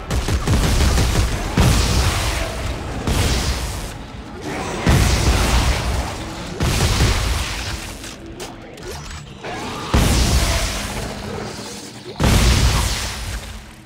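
In the game Dead Space 3, a space shotgun fires repeatedly at a body: heavy, booming blasts every couple of seconds, each followed by a brief mechanical clack of the weapon cycling.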